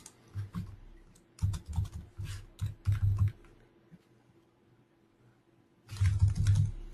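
Rapid bursts of typing on a computer keyboard, close and fairly quiet, come in clustered runs of key clicks with a pause in the middle before a final dense flurry.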